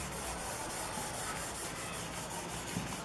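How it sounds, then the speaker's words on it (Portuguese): Sandpaper rubbing over the body of a Heartfield by Fender guitar during a refinish, a steady close scratchy rasp that runs without a break for the whole stretch, with no talking. "do que você pegar a lixa e lixar assim"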